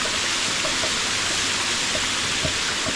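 Waterfall at a forest temple in Laos, a dense, steady roar of falling water that stays loud and close throughout, with no voices.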